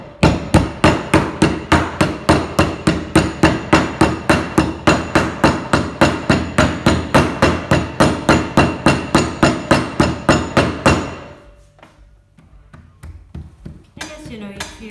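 A clay slab being beaten flat by hand, struck about forty times in a steady rhythm, each blow loud, close and sharp, for roughly eleven seconds, then stopping abruptly and leaving quiet with a few faint handling noises.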